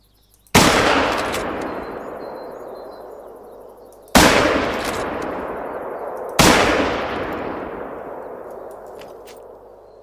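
In the theHunter video game, three hunting rifle shots crack out loud and close, spaced a few seconds apart, each ringing into a long, echoing decay.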